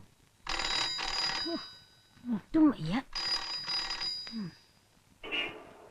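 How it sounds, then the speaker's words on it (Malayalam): A telephone rings in two trilling bursts, with a voice speaking in the gap between them and another short ring near the end. "ഇതെന്ത് മരണ ഫോണാ പത്തിരുപതെണ്ണം ആയല്ലോ"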